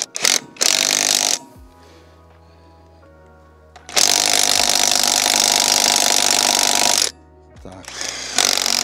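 A Parkside Performance PPDSSA 12 A1 cordless impact wrench hammers on old, decades-painted nuts. Several loud bursts are heard, a short one, a long one of about three seconds and another at the end, separated by quieter motor whirs and pauses.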